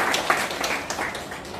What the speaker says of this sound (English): So give her a big clap.